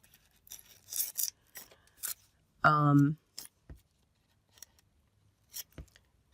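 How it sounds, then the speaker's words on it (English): Scissors trim the edge off tissue paper for a collage journal project, making several short, crisp snips close by, with a soft voice heard in between. "And I'm just going to cut around to cut the edge off."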